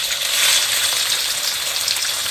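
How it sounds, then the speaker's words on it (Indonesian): Seasoned pork pieces sizzle and fry in a pan, giving a steady, close, crackling hiss with no pauses and no voices. "Kemudian saya goreng."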